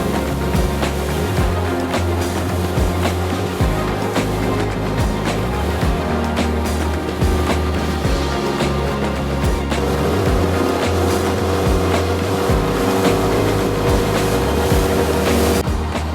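A 360 Explorer RIB boat runs at speed across flat calm Loch Leven on a warm, sunny day, its outboard engine droning steadily and loudly throughout with continuous water rush and wind buffeting, no voices.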